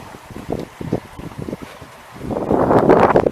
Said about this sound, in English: Try to block this wind a little bit.